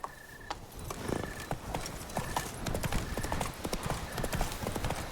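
Roach, Geralt's horse in The Witcher 3 video game, gallops with rapid, rhythmic hoof clip-clops close by, continuing steadily over ambient game sound.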